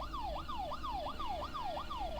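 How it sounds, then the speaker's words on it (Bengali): Police car siren from the video game Fears to Fathom: Home Alone, a loud, steady repeating wail that sweeps down and snaps back up about five times, alone with no talk. "পুলিশের গাড়ির আওয়াজ।"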